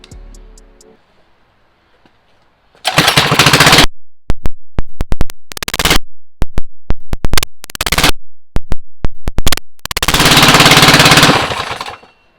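Coleman CT200U mini bike engine with a .356 cam, started with the choke on and running rich: a long cranking roar, then a series of sharp revving bursts and stutters, ending in a sustained loud run that cuts off.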